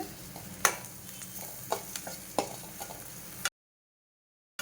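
A cowpea snack mixture with turmeric gets stirred in a pan over a soft sizzle, with several sharp scrapes and taps of the spoon at irregular intervals before the sound cuts to silence.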